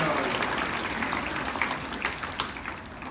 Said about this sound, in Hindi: जोरदार जोरदार तालियां बजा के बताएं